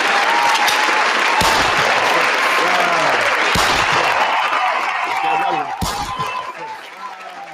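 Loud, sustained clapping from a crowd, with sharp bangs cutting through at intervals; the applause fades somewhat toward the end.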